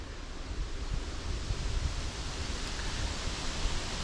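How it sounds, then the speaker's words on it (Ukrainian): Wind buffets the microphone with a constant low roar and rumbling gusts, steady throughout with no voices. "Вітряно"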